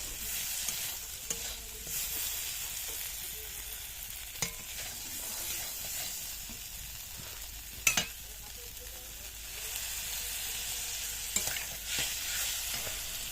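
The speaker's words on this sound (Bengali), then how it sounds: "এটি অনবরত নাড়তে হবে, না হলে কাজু বাদাম ধরে যাওয়ার সম্ভাবনা থাকে।" Cauliflower masala with cashew paste being stirred and fried in a pan, a soft continuous sizzle broken by occasional scrapes and clinks of the spoon, close and fairly quiet.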